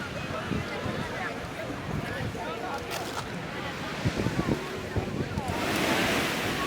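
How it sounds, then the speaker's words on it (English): Ocean surf and steady wind at Copacabana Beach in Rio de Janeiro, a continuous wash of breaking waves with gusty microphone buffeting, swelling louder near the end. "Going to the Copacabana Beach."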